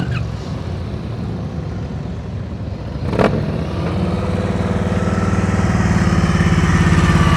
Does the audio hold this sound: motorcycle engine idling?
yes